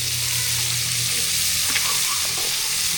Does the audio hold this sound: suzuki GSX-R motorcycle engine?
no